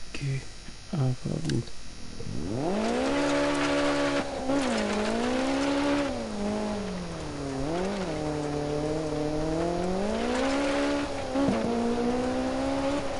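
A rear-wheel drive rally car in Dirt 4 revs and accelerates, its engine note rising and falling steadily over many seconds, with brief tire and gravel noises at the start.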